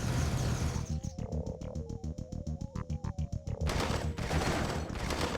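Heavy gunfire from the Command & Conquer: Tiberian Sun GDI mission defending Phoenix Base: a rapid, rhythmic run of loud automatic bursts in the middle, framed by dense, continuous battle noise before and after.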